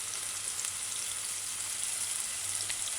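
Onions and diced scallions sauté in a pan for a broad bean pepper stew, giving a steady, even sizzle with a low hum beneath, constant and fairly close, with no voices.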